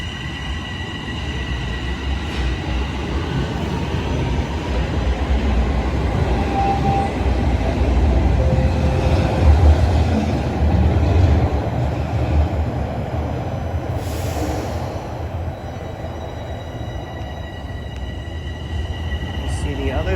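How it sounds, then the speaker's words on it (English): TTC northbound subway train at Highway 407 Station, a loud sustained rumble and roar of the train moving along the track, heard up close and continuous throughout. "you see the northbound train gonna go"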